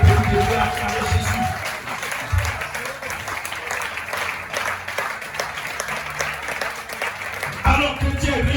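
A church congregation at an Easter Sunday service applauds and cheers for Jesus, a steady, dense wash of clapping and crowd noise that lasts throughout, with voices rising over it near the start and the end.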